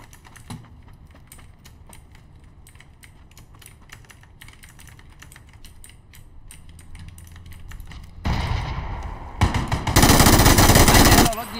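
PUBG game gunfire arrives near the end as loud, dense automatic bursts, preceded by a long stretch of rapid keyboard and mouse clicking with quiet game ambience underneath.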